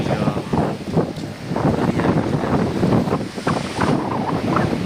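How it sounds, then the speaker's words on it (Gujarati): Waves breaking on the beach at Porbandar Chowpatty, a loud steady surf wash mixed with strong wind rumble against the microphone. "અત્યારે દરિયામાં મજા કરે છે ફૂલ દરિયાના મોજાની"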